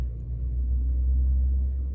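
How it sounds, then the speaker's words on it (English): A low, steady rumble of heavy trucks outside working down the block, muffled and distant, with no voices. "A lot of trucks outside."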